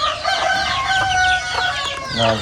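Close, loud crowing and clucking from two roosters, overlapping calls filling the short stretch.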